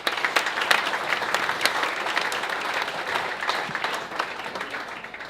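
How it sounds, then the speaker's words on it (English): An audience at a charity lunch applauds warmly, a steady wash of many hands clapping at moderate volume with individual sharp claps popping out, continuing evenly without talk over it. "Can I just have a round of applause for Sea Level?"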